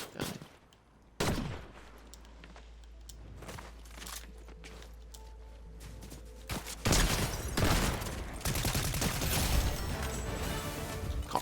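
Rifle gunfire in a video game, including a Spire rifle, bursting out as loud sharp shots after a quieter stretch, with rapid sustained volleys filling the second half over steady background game noise.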